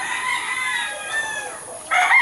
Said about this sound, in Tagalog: Ayan yung mga inahin.